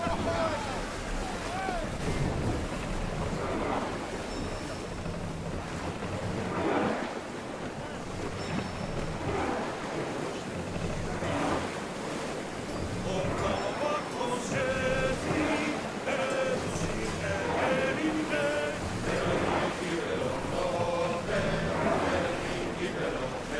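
Ship sailing over ocean waves in Assassin's Creed Odyssey: continuous surging surf and wind rushing around the hull, swelling and easing in long washes, with a voice speaking over the sea noise.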